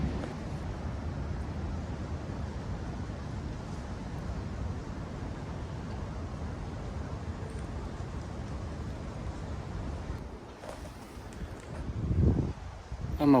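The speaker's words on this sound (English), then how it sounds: "it's getting really windy" Steady gusting wind roars outdoors with rustling and microphone buffeting throughout, growing louder and rougher toward the end.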